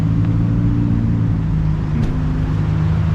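A car idles close by at a car club meeting point, a steady low engine rumble with a faint hum and no change in pitch, with no talk.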